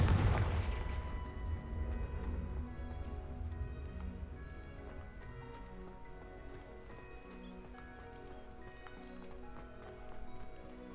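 A Confringo fire spell in the video game Hogwarts Legacy detonates with one loud explosive boom at the start. It fades into a long rumbling tail over busy game ambience with faint clopping.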